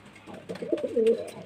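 An Andhra pigeon at a home loft gives one short, close, rolling coo that swells toward the end, with no voices present.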